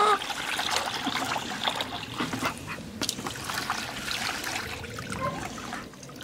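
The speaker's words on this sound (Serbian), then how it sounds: "Da sipamo čistu vodu." Clean water is poured from a bottle onto young cabbage seedlings, making a continuous close trickle and splatter with a few brief splashes.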